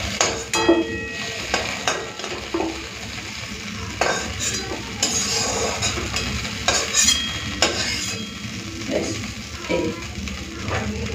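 Broccoli sizzles and crackles in a pan while a utensil scrapes and stirs in irregular strokes, close and steady.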